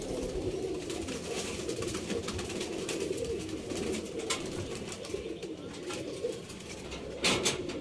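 Pigeons cooing in a loft, soft repeated low coos from several birds over a constant murmur, with occasional wing flutters and light clicks.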